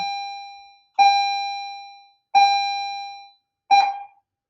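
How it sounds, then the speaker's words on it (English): Electronic bell tone sounding four times in a classroom setting, each a loud sustained ring that cuts off after about a second, with short gaps between rings. "there's the bell"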